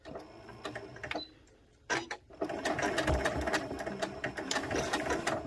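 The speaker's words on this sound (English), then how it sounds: "I'm gonna sew all the way down to the bottom." A sewing machine stitches a tuffet seam up close, running in steady rapid bursts with a brief pause near the start before resuming continuously.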